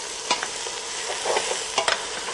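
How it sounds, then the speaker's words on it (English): Sliced celery, garlic and bay leaf browning in a pan, a soft background sizzle broken by a few scraping stirs close by, no talk. "Bit of a stir around. I'm just going to brown that a little bit as well."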